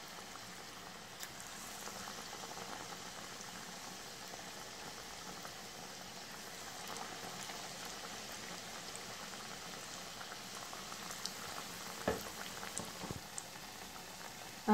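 Chicken bonda balls bubble and sizzle in hot oil as they fry, a steady crackling hiss with a few sharper pops and clinks near the end.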